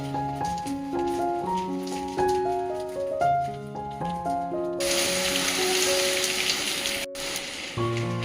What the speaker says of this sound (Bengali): প্রচন্ড ঝোড়ো হাওয়া আর মুসলধারে বৃষ্টি পড়ছে